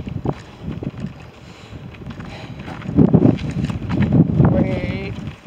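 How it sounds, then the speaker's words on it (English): Strong outdoor wind buffeting the microphone, rumbling and surging in loud gusts, with a voice talking through it. "that is so windy"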